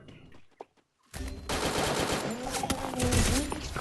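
After a brief near-silence, a loud sustained burst of automatic gunfire erupts in a shooter video game, rapid shots blending into a dense roar that continues to the end.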